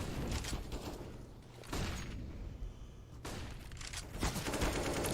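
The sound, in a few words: pistol gunfire in Counter-Strike video game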